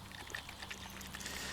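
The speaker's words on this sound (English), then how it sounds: "Putting some water on this." Water poured onto a Japanese whetstone, a faint continuous trickle and splash with bright wet spatter throughout, no speech.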